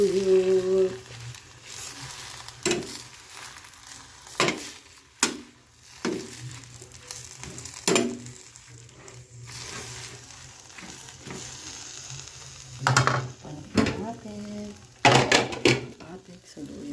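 Saluyot leaves sautéed with tinapa (smoked fish) in a pan, a soft sizzle interrupted by repeated clinks and scrapes of a utensil against the pan, with a person talking over the cooking.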